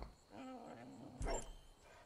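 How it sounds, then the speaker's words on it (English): A dog in Far Cry 5 gives a short whining yelp and then a single sharp bark, close and moderately loud over a steady background hum. "What, can I give the dog a command to attack it?"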